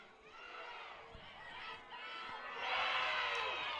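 Spectators cheer at a boys soccer semi-final between Rummel Raiders and Prairieville during second overtime, a distant, wide swell of shouting and cheering that builds louder toward the end.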